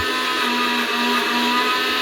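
A large mixer grinder whirs steadily while grinding spice paste, a loud continuous high-pitched motor drone that holds without pause.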